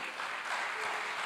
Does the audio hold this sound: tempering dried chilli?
no